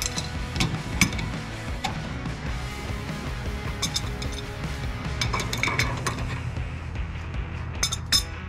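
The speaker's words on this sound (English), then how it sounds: "So the center nut comes off." Metal tools and parts clink and clatter while the center nut comes off an ALKO trailer wheel hub on a Jayco Journey Outback caravan, with irregular sharp metallic taps over a busy workshop background.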